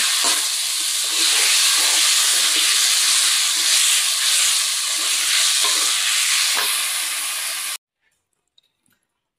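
Loud, steady sizzle of masala frying with tomato and potato in a pan, broken by repeated scraping stirs, cutting off abruptly to near silence near the end.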